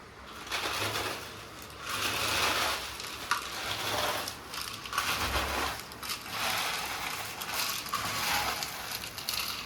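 Steady grinding whir of a mixer grinder crushing a dry, crunchy fried snack mixture, continuous and fairly loud with brief dips in intensity.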